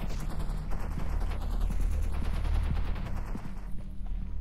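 Rapid bursts of video game gunfire crackle over a dense, rumbling background, steady and continuous for several seconds with no talking.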